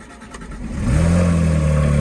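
A Dodge Hellcat engine cranks and catches, then settles into a loud, steady, deep idle close by, with no voices over it.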